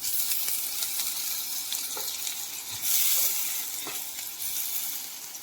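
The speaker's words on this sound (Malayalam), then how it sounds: "ചുണ്ടങ്ങയും ചെറിയുള്ളിയും ഇപ്പോൾ നല്ല പോലെ മൊരിഞ്ഞു വന്നിട്ടുണ്ട്." Turkey berries and shallots fry in a pan with a steady, close, fairly loud sizzle and crackle, plus a few brief clinks of stirring.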